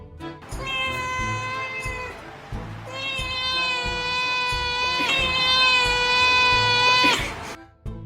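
Several long, tonal cat meows in a row, loud and close, each drawn out for a second or two with short gaps between.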